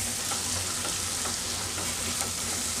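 Eggplant coated in coriander chili paste fries in a pan on low flame, a steady close sizzle running throughout with occasional scraping stirs, no voices.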